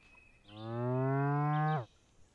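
Cow mooing in the Deer Simulator video game during its reversi minigame, a single long, loud, clear moo lasting over a second against a quiet background.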